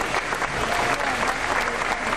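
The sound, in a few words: audience applause for a volunteer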